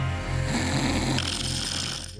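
A man snores in close, loud, raspy pulses, one rattling breath after another in an uneven rhythm, with no talking.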